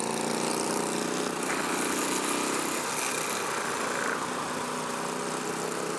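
Royal Enfield Classic 500 motorcycle engine idling in neutral, a loud, steady single-cylinder thrum with constant mechanical clatter, continuous and close with no talking.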